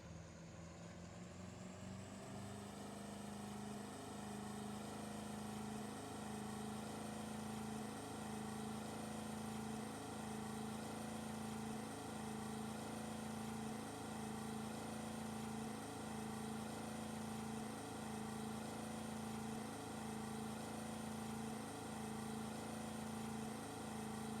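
Boat engine from the fishing game Russian Fishing 4 spins up and then drones steadily, a loud, even, looping motor hum with a faint regular pulse that runs unbroken and without speech.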